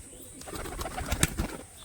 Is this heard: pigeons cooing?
yes